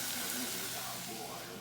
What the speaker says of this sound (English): now I'm going to add a splash of wine, Shaoxing wine. And you can hear the sizzle.